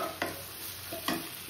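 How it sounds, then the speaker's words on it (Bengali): Chopped tomato goes into frying onion in a pan and is stirred, bringing two distinct scraping stirs over a soft, constant sizzle, close and brief. "এবার এই কেটে রাখা টমেটোটাকে দিয়ে দেব"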